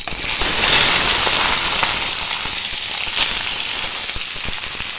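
Chili, mustard seeds, curry leaves and chopped ingredients fry together in hot oil, giving a dense, loud, continuous sizzle and crackle that stays steady throughout.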